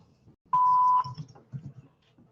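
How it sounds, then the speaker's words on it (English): A single electronic tone lasting about half a second sounds on a phone during an outgoing real estate cold call, with faint low murmur around it. "Hello? Answer the phone."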